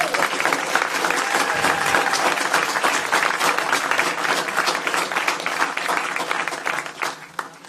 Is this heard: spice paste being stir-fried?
no